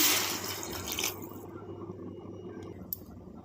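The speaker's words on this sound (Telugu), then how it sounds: "ఒక గ్లాస్ వాటర్ అయితే వేసుకున్నాం" A glass of water splashes and pours into a pan of potato and soy chunk kurma for about a second, then a quieter simmering hiss continues with a faint clink near the end.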